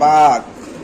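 A single short pigeon coo rings out close by, then fades into quiet.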